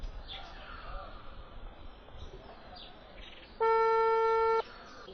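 A single steady electronic telephone tone of about one second plays on an unanswered call, loud against a quiet background of faint chirps and room noise.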